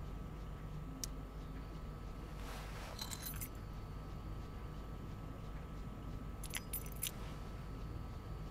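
Keys jangle in Life is Strange Before the Storm in two brief metallic bursts several seconds apart, close and crisp over a steady low background hum.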